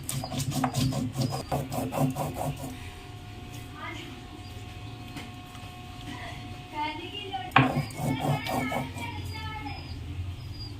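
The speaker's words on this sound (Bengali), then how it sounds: "জল দিয়ে দেবো জল দিয়ে বেটে নেবো" Spices being ground into a paste with water, a steady rhythmic rubbing and scraping of stone that pauses and then resumes with a sharp knock, with a voice talking at times.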